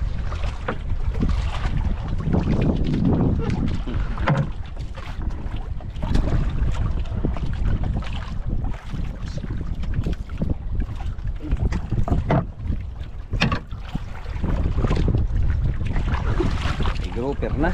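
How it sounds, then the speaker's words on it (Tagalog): A small boat moves on open water with steady wind buffeting the microphone, the splash and rumble of the hull running continuously close by; people talk over it now and then. "Dahan-dahan kay malit lang yung bangka natin."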